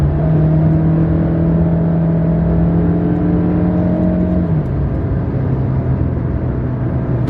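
A 2019 Hyundai Sonata Sport engine revving loud and close through the lower gears, a steady droning whir that drops in pitch partway through as it shifts gear.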